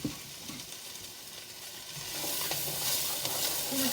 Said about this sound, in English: So we're going to just give that a nice stir and saute that down over like a medium-high heat